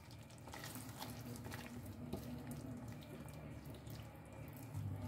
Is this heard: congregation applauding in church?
no